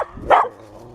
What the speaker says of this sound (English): Those dogs barked at me before.